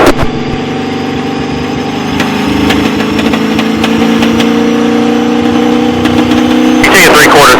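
A race car on a driving experience track, its engine droning loudly and steadily with a rising note, a voice coaching over the engine noise.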